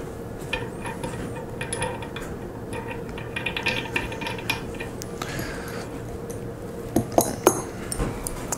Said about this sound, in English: I'll put these threaded locating pins, thread them in a couple of the holes.